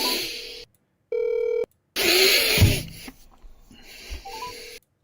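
Telephone keypad tones beep in short bursts, followed by a steady ringback tone and a call connecting with brief rustling, all heard up close with no talking.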